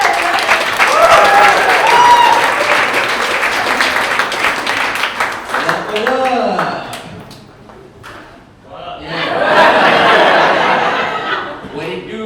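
A comedy club audience at the Urban Tree breaks into loud, sustained applause and cheers as comedian Jerry Truman is introduced, with a brief lull before a second strong burst of clapping.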